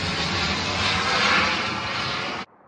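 A fixed-wing airplane passes overhead on a grilling day, a loud, steady broadband engine roar that holds for over two seconds before cutting off abruptly, with no talking.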